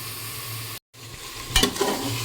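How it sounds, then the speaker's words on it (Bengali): Mutton sizzles and fries in a pan while being stirred, a steady close hiss broken by a brief gap and a clattering scrape of the spatula. "মাংসটাকে বসিয়ে দিই তারপর এখানে তখন ভাজা শুরু করব"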